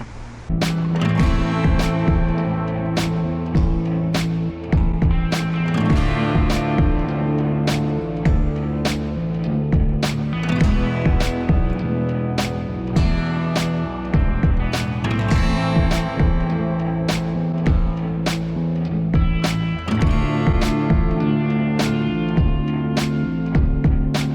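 An electric scooter rides along during a range test, with a steady motor hum and road noise punctuated by frequent sharp clicks and rattles from bumps, close and continuous.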